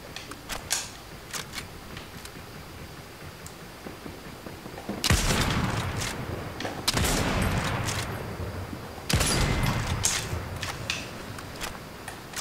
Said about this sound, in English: he's getting shot at by both of us